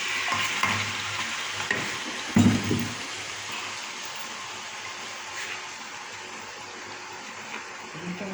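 Red lentils frying in a pan with onion, garlic and green chili for lentil soup with taro stolons, giving a steady close sizzle with a few louder stirring scrapes partway through.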